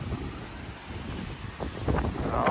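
Wind blowing against the microphone in a low, continuous rumble that strengthens toward the end, with no one speaking.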